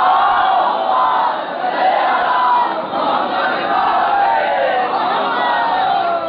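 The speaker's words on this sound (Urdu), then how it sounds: "اتنی بلند صلوات سارے مل کے پڑھیں" A large crowd at a religious gathering in Raiwind loudly chants salawat in unison, a dense, sustained roar of many voices filling the space without pause.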